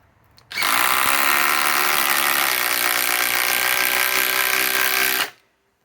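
A Metabo HPT Triple Hammer cordless impact wrench runs on a flex battery, starting abruptly and hammering loudly and continuously for nearly five seconds with a rapid buzzing rattle before cutting off.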